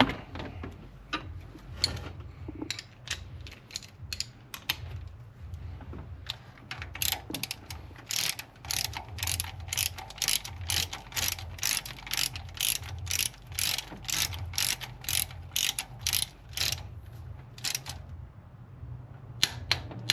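A ratchet tightens the power steering pump bolts on a 2010 Subaru Forester, giving a long run of rapid, even clicks in bursts, close and fairly loud over a low steady hum.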